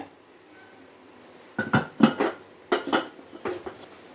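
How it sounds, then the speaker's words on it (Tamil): A spoon stirs ginger chicken in a cooking pan, giving a few sharp metallic clinks and scrapes in short irregular bursts after a quiet start, close by, with no voices. "இப்போ இது வந்து நல்லா பரட்டி விடணும்"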